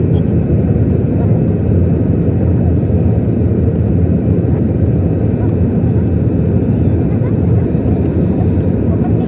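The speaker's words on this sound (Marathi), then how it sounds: "हळूहळू विमान एअरपोर्टजवळ येत होतं आणि मी लँडिंग केलं." An airplane comes in to land at an airport: a loud, continuous low roar of engines and rushing air holds steady throughout, without any clear speech.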